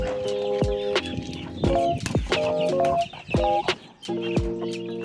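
Young gamecock stags clucking in their pens, a series of close, loud clucks and short calls in an irregular rhythm, with no talk.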